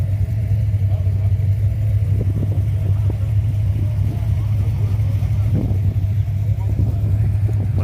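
A Ford Maverick V8 at a car meet gives a steady, deep, loud rumble throughout, with people chatting over it.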